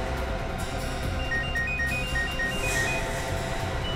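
A mobile phone ringtone chirps in a repeating electronic melody, steady and fairly loud over a low background hum, with no talking.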